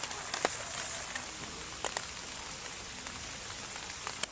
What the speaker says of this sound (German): jedes Mal, wenn ich die Camping-Zelttür, Tor öffne, fängt es an zu regnen.